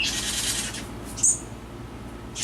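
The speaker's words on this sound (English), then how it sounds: "Look at the little birdies on the floor." Newly hatched baby birds call from the floor, giving two brief, high, thin chirps a second apart over a soft hiss and a fading rustle.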